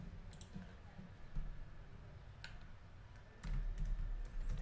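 Code being typed into a CSS file on a computer keyboard: quiet, irregular key clicks and taps at close range over a low background hum.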